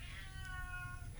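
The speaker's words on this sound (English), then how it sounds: "You're going to hear my stupid cat in the background." A house cat meows once in the background of a quiet indoor recording, a drawn-out, wavering meow that rises and falls over about a second, faint and alone.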